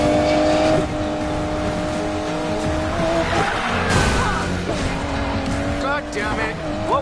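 A car in the racing video game Need for Speed Payback skids with squealing tires over a steady engine roar, shifting pitch as it slides, loud and continuous, with game voices talking over it.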